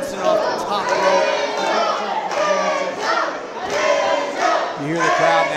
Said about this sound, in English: You hear the crowd now getting behind the Real One.